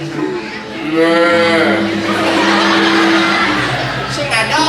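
A cow moos loudly and close at a Balinese drama gong stage performance, one long drawn-out low call in the middle, with a crowd murmuring and voices around it.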